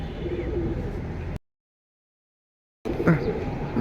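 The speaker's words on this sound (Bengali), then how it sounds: "খুব সুন্দর এক জোড়া পাঙ্কি নর মানে চটপট করতেছে পাঙ্কি কবুতর" A pair of Pankhi pigeons coos and flutters close by, with bursts of bird sound that break off for a moment of silence and then resume.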